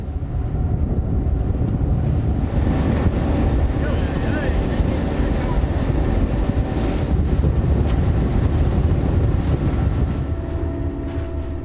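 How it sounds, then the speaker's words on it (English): A tugboat steers back into harbor with a pilot and captain aboard in strong wind, heavy wind buffeting and rushing water masking a low engine rumble, loud and constant throughout. "The pilot and the captain steer the tug back into the harbor."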